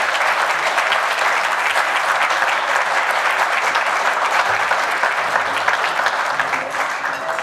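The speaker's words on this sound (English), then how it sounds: "Please give them a big Western Crawford round of applause." A banquet audience at a bowling hall of fame dinner breaks into dense, sustained applause, loud and steady for several seconds with no pauses, filling the hall evenly.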